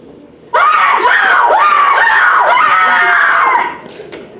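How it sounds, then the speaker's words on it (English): A woman on stage in a school production of Clue lets out a long, loud, wavering scream lasting several seconds, rising and falling in pitch before cutting off. "Well, someone had to stop her screaming."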